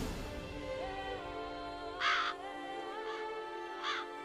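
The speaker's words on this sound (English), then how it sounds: "Oh, we got crows out here and everything. Are these your ravens?" Ravens in The Witcher 3: Blood and Wine video game give three harsh caws over a steady ambient hum, one louder call followed by two fainter ones spaced about a second apart.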